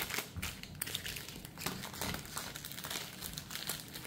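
Trading cards from a Commander Masters set box being shuffled, a steady close crinkling, riffling patter of card stock lasting the whole stretch with no talk.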